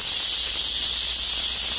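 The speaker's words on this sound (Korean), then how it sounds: "이 소리가 탄산이 빠져나오는 소리인데요" Carbonation escaping from a freezer-chilled bottle of Boksoondoga hand-made makgeolli opened just slightly, a loud, steady, high-pitched hiss held throughout at close range.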